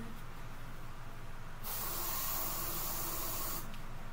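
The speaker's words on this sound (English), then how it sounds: "I put on this spray deodorant." Aerosol deodorant sprayed onto the underarms, a steady hiss lasting about two seconds after a short quiet lead-in, then cutting off.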